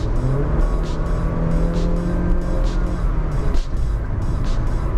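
Honda City Hatchback RS with CVT revving hard under full throttle in normal drive mode, a loud sustained engine roar held at high RPM without gear shifts, steady throughout with faint talk underneath.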